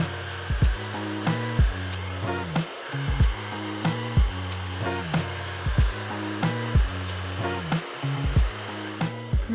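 Hair dryer blowing hot air while natural hair is smoothed with a round brush, a steady close whir broken by repeated soft brushing strokes and bumps, no talking.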